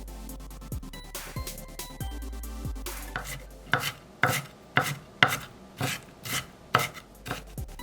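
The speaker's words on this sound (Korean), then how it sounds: "양파 약간은 이렇게 썬다" Knife chopping onion on a cutting board for a steamed egg dish, a run of about eight sharp, evenly spaced cuts that grow louder toward the end, preceded by a few softer handling knocks.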